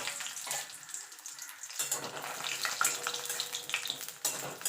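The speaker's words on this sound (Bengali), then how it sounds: "এবার আমি বড়িগুলোকে ভেজে নেব।" Lentil badis frying in hot mustard oil, a steady crackling sizzle with watery hiss, close and moderately loud, with no talking.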